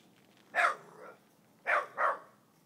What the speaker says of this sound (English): You're such a killer dog. You're just a moose hunting machine.